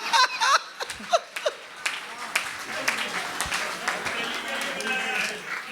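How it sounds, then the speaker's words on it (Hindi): An audience applauds at a Hindi hasya kavi sammelan, a comedy poetry gathering. A brief stretch of talk and a few chuckles comes first, then a broad, steady wash of clapping continues to the end. "अगली पंक्ति पर मजा आ जाए तो फिर तालियों से बताना।"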